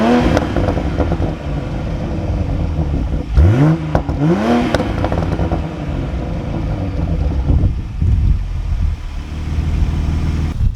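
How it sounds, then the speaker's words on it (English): Exhaust pops and bangs from a 2020 Toyota A90 Supra on throttle, heard under a steady engine drone, with a couple of sharp rising revs and crackles near the middle and rumbling bursts later. "when I press the throttle, you do hear some pops and bangs"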